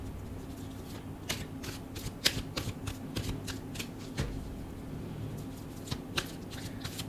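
A tarot card deck being shuffled, with a run of crisp riffling and flicking card sounds in irregular bursts, close and fairly quiet over a low steady hum, with no talking.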